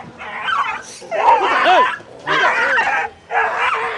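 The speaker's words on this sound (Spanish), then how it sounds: "Hay dos perros peleándose." Two dogs fighting outdoors, a rapid run of close yips, whimpers and sharp barks in three loud bursts separated by short pauses.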